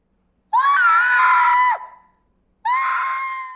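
A woman's long, piercing scream from a Bong Joon-ho film scene, sustained for over a second and trailing off, then a second shorter scream after a brief silence, loud and alone.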